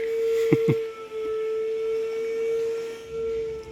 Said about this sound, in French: il y a quelqu'un qui est en train de passer l'aspirateur de son véhicule juste à côté